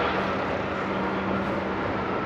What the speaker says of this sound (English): Sorry about the noise, we are right next to this highway right here.